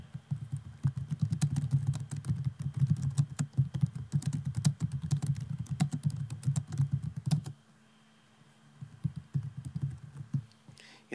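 Rapid, close clicking of computer keys runs steadily for several seconds as notes are typed, then falls away into near silence with a few scattered taps at the end.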